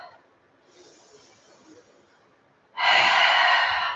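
A deep, breathy exhale during a pregnancy yoga session, a loud rush of breath near the end after softer, quiet breathing sounds.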